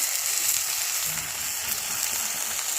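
Leafy greens cooking in soybean oil in a pan in a village kitchen, a loud continuous hissing sizzle throughout with no one talking.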